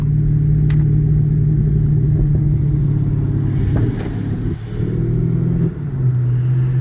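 A car exhaust with steady engine rumble and scattered small pops and gurgles, fairly close, with no talking over it.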